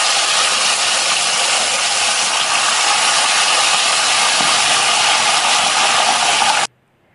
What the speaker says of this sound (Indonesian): Setelah ini kita akan goreng lagi ikannya.